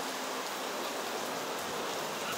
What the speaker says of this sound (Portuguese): Glória a Deus por essa chuva abençoada, que molha a terra